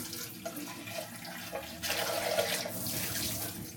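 Tap water splashes into a milk jar being rinsed, a continuous close hiss with shifting gurgles that grows fuller and louder partway through as the jar fills.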